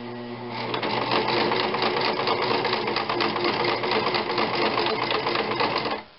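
A sewing machine stitches a seam on a nun's veil, running in one continuous fast, even whirring burst for about five seconds before stopping abruptly.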